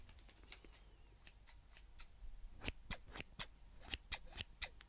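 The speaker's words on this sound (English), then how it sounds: "I'm going to use some scissors to open these up" Several crisp snips of scissors cutting open trading card packs, irregularly spaced and close, over a quiet background.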